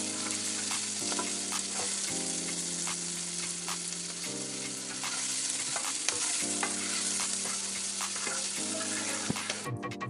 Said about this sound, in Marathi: आता आपण या कांद्याला छान प्रकारे गुलाबी रंग येईपर्यंत तळून घेणार आहोत